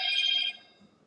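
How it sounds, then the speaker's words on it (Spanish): A single short burst of a telephone ring, bright and close, cuts off after about half a second, leaving near-silence. "Antes que siga sonando el teléfono."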